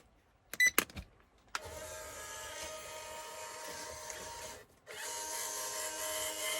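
A RocHobby Cheyenne 6X6 RC truck running in training mode gives a steady electric motor whine, with a brief break partway through. It is alone, close and moderately loud, after a few short clicks at the start.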